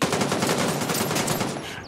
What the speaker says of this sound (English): I'm having a fucking gunfight right now, man.